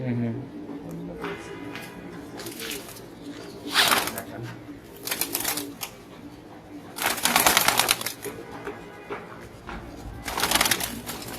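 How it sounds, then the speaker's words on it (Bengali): Pigeons, including a silver bezi hen, coo softly amid several loud bursts of wing flapping and rustling, close up, while someone talks over them. "এটাও একটা বেজি কবুতর"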